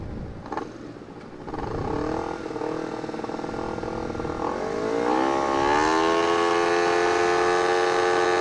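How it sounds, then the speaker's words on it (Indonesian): A Honda CBR 250RR motorcycle engine rumbles near idle, then revs up in a rising whine that climbs and holds at high revs, loud and close. "Kita bakal coba nih nyetar pakai CBR Setia Kawan yang katanya kenceng nih"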